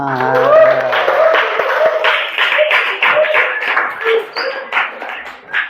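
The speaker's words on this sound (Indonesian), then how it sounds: "Tepuk tangan kita semua" A school class claps hands during a linear equations math lesson, a loose patter of clapping from the room mixed with voices, uneven and bursty rather than a smooth roar.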